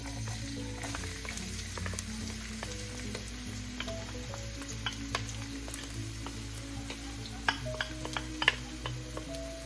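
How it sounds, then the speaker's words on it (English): Onions and garlic sizzle softly in hot oil in a pan, a steady faint frying hiss dotted with small pops and ticks, with no talking. "That should be enough oil right there. And we're gonna start with the onions and garlic."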